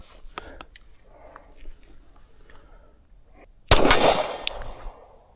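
A pistol shot fired at a target about 40 yards away gives one loud sharp crack with a brief ringing tail, preceded by a few small metallic clicks of handling.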